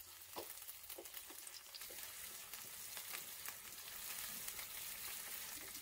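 Sliced onions fry in oil with cumin, cinnamon, cardamom and bay leaf, giving a faint, steady sizzle with soft crackles and occasional stirring scrapes throughout.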